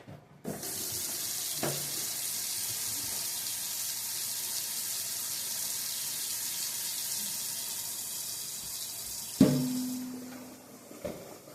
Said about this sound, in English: And then some cold water.